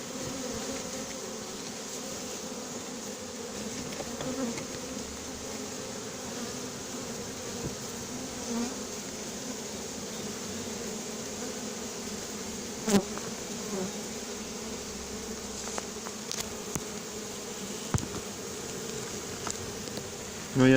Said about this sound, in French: voilà la première partie de l'essaim. Et je les fais tomber